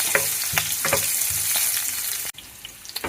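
Onions drop into a hot pan with ginger for shrimp sinigang and spit and crackle, with rhythmic stirring scrapes over a steady sizzle, then a brief dip before the frying continues.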